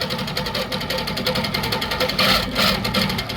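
A long arm quilting machine with a robotic stitching system runs steadily, its needle pulsing in a fast, even mechanical rhythm with a constant motor hum close by, growing slightly louder near the end, no talking.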